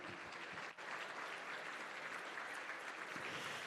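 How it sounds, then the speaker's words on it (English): Audience applause at a gala business awards ball, a dense, steady wash of clapping that fills the whole stretch with no voices over it. "So please, one more round of applause"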